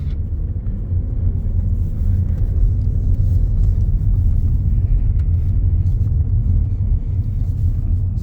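Interior of a 2021 Jaguar F-Type R-Dynamic on a short drive around the block, a steady deep engine and road rumble, loud and continuous with no voices.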